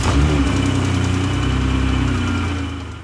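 A BMW N52 inline-six, fitted with an underdrive pulley, fires up and settles into a steady, close idle with a low mechanical hum that holds even before tapering slightly at the end.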